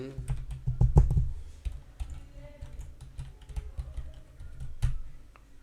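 Someone types an admin login and password on a computer keyboard, with sharp, close key clicks in uneven bursts and a few heavier thumps, no talking.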